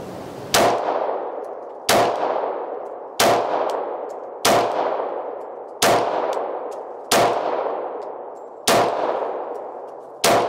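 A Sig P229 pistol fires .40 caliber rounds in eight sharp, evenly spaced shots, each loud crack trailing off in a ringing decay before the next, with no voices.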